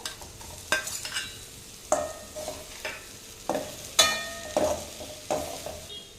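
Potatoes and peas are stirred through masala in a pan for a pea and onion kurma, giving a run of distinct scraping stir strokes with light sizzling between them, close and fairly quiet, with no talk.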